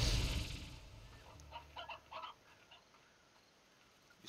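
A few short clucks from chickens in the video game Slime Rancher come in a small cluster after a loud opening rush, then fade to near silence.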